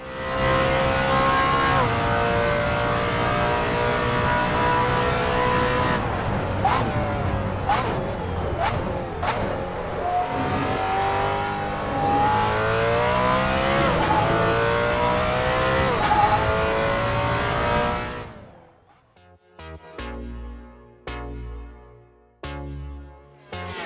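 A GT3 racing car engine in the video game Assetto Corsa, a Ginetta G55-based car, roars and revs continuously, with rising and falling pitch as it shifts gears, then cuts out abruptly to quieter idle bursts.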